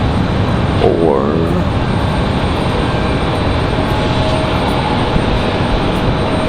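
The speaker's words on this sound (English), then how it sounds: "Quick moving exec jet." Executive jet moving quickly while taxiing at Raleigh-Durham airport, a steady loud broadband engine roar filling the whole clip, with a brief rising whine near the start and faint voices under the noise.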